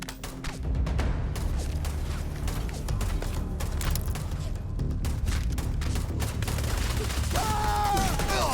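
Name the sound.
gunfire in the video game Starfield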